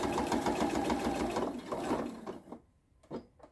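A sewing machine back-stitches the binding on an oven mitt. It runs as a fast, steady, close-up whirr of stitches for about two and a half seconds, then stops, followed by a few faint handling clicks.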